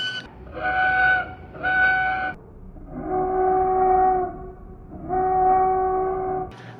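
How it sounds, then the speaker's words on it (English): Loud squeaky squeals from polishing string-instrument strings with alcohol between fingerboard and bridge, four sustained tonal screeches in two short and two longer strokes with gaps between. "And you'll polish the strings. It'll make an awful noise like that."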